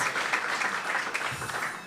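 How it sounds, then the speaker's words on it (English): Applause for chefs at a cooking competition after time is called, a steady wash of clapping from a crowd that holds evenly for about two seconds. "Round of applause for these chefs."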